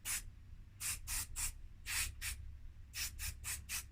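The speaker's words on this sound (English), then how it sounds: "if a bit of a dousing with video head cleaner will sort them out at all" Video head cleaner is sprayed onto the dirty switches of a Philips Moving Sound D-8304 radio cassette player in a run of short, close hissing bursts, some single and some in quick clusters, with no talk.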